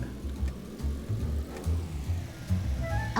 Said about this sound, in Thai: เอ๊ะแต่เสียงเครื่องมันแปลกๆฮะ